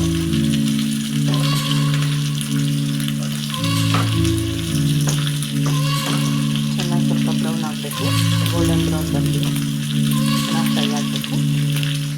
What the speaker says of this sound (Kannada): ಕರಿಬೇವು ನೆಕ್ಸ್ಟು ನಾನು ಈರುಳ್ಳಿ ಹಾಕ್ತಾಯಿದ್ದೀನಿ